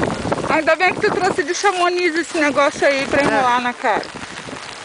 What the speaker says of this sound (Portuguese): Tá chovendo. E neve, é uma mistura de chuva com neve.